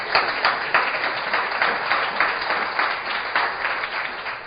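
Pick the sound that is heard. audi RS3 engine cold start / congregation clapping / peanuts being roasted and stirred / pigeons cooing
congregation clapping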